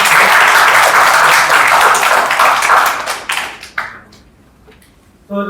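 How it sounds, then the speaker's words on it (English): Applause from an audience at a Toastmasters club meeting, a dense, steady patter of many hands clapping for about three seconds, then thinning into a few scattered claps before a brief final burst. "Can we have a big round of applause?"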